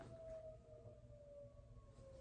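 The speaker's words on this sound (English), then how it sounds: "The fire sirens just started going off." A faint, distant fire siren wails in a long, slowly falling tone over low background rumble.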